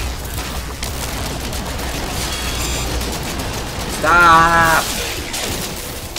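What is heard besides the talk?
gunfire in No Man's Sky video game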